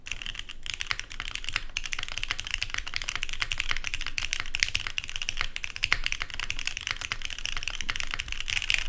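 Continuous fast typing on a full-size Bowl Keyboards Pangea mechanical keyboard, a dense stream of crisp, close key clacks with steady rhythm and no talking.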